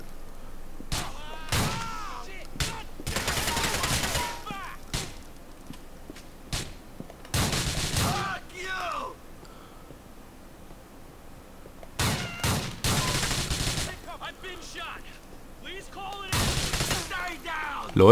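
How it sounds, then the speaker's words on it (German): Bursts of gunfire in the video game GTA IV come from a character shooting while lying on the ground, loud volleys separated by quieter gaps, with talking in between. "Er schießt, liegt auf dem Boden und schießt dabei erstmal die ganze Zeit"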